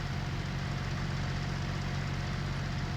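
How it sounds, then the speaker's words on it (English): A tractor pulling a rotary tiller in the Farming Simulator video game makes a steady, low engine drone that runs at an even level with no variation, with no voices. "this tractor runs really nice with the rotor tiller"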